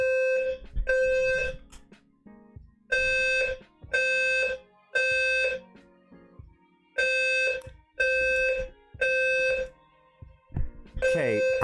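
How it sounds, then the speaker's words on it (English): A loud fire alarm sounds in repeated pulsing buzzes, about eight harsh blasts in a steady on-off rhythm with brief gaps between them. "Okay, I'm assuming that's a fire alarm."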